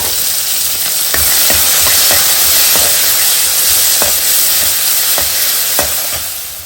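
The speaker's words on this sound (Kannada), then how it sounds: "ಈಗ ಚಿಕ್ಕದಾಗಿ ಕಟ್ ಮಾಡ್ಕೊಂಡಂತ ಒಂದು ದೊಡ್ಡದಾದ ಈರುಳ್ಳಿ" A large finely chopped onion sizzles loudly in a hot pan while a spatula stirs it, adding regular scraping knocks about once a second over the constant frying hiss.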